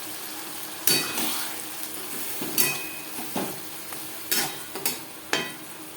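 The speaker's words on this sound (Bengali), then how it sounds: "দু 3 মিনিট পেঁয়াজ ভেজে নেওয়ার পর দিয়ে দেব পেঁয়াজ, রসুন ও টমেটোর পেস্ট।" Onion, garlic and tomato paste frying in a pan for mutton curry, with a low background sizzle broken by several sharp clatters of a spoon stirring against the metal pan, close and fairly quiet.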